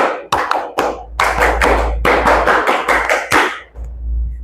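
A classroom of students claps together in sharp, loud, unison bursts, several quick groups of claps following one another in rhythm with short pauses between, close and alone without talk.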